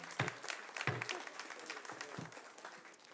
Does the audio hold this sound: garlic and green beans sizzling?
no